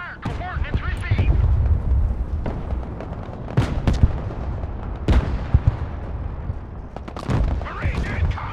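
Artillery fire in the Broken Arrow video game: several sharp, loud booming blasts come at irregular intervals over a dense rumbling battle din, with radio-style voice chatter mixed in.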